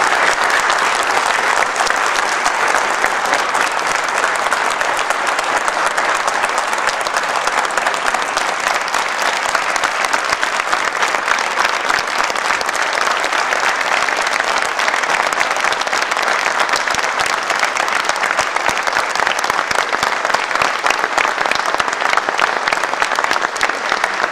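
A theatre audience applauds in support of a statement read by theatre workers. The clapping is steady, dense and loud, and it carries on without pause for the whole stretch.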